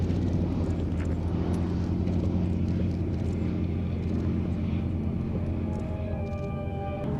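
Swordfish and Nimrod biplanes flying together at the Duxford Battle of Britain air show, heard as a steady, loud low piston-engine drone, with the pitch of the engine tones shifting toward the end as the aircraft pass.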